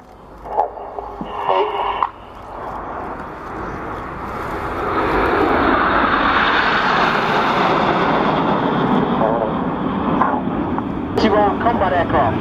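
Eurofighter Typhoon combat aircraft at the 2013 Volkel air show, a broad jet roar swelling and holding loudly for several seconds, with crowd noise and announcer speech at the start and end.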